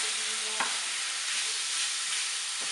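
Meat browning in a pan for shepherd's pie, stirred as it fries: a steady, close hiss of sizzling with a few soft scrapes of the spoon, no voices.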